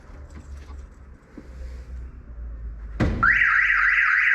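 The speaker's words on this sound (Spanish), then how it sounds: "También se activa la alarma." Alarm on a VW Saveiro G1 with a central locking and alarm system goes off as the hood is opened, a sudden loud warbling siren that begins after a quiet workshop background and keeps sounding continuously.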